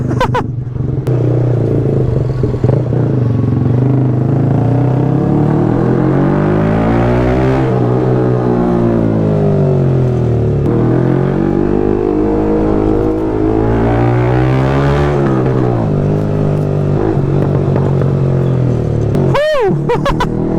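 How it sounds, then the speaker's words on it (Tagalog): A loud motorcycle lowered two inches at the front revs hard, its engine note rising and falling in long repeated sweeps close by, with a brief sharp burst near the end. "Ito na lang yung natitira kong motor na napakaingay"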